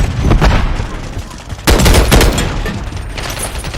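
A stun grenade goes off in a Call of Duty-style shooter video game, a loud blast amid scattered gunfire, with a sharp burst halfway through and a fading rumble after.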